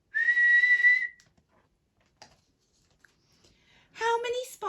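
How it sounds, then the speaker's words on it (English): A mother blows her whistle at quarrelling children: one steady shrill tone lasting about a second, quiet clicks, then a voice speaking near the end. "Mum had to blow her whistle."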